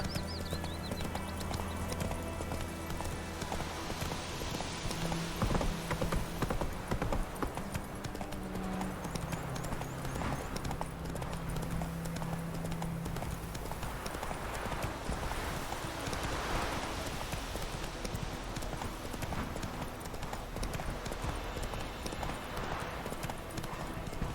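Roach, the horse in The Witcher 3, gallops in a steady, loud clip-clop rhythm throughout, with game music and effects beneath it.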